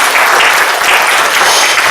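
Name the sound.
church congregation applause for the accompanist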